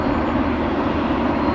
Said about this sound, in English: I'll just quickly watch this Jet 2 taxi to the gate